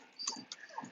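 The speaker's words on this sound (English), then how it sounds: "That's my dog looking at a cat." A dog lets out a couple of short, faint whimpering whines over roughly a second, close by and with no talk over them.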